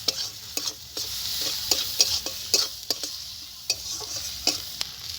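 Onion and green chili fry in a pan with a steady hiss of sizzling oil, punctuated by sharp, irregular clinks and scrapes as a utensil stirs against the pan; no voices.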